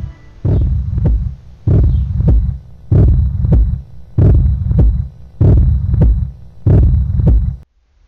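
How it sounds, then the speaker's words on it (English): A steady heartbeat thumps loudly in six evenly spaced double beats, each a deep lub-dub pulse with a faint hum beneath. "A steady beat, steady heartbeat resounded around him."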